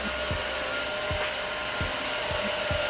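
Eureka Forbes Mop n Vac vacuum cleaner running indoors with a steady, close, loud broadband whir and a constant motor tone, punctuated by soft low thumps at regular intervals.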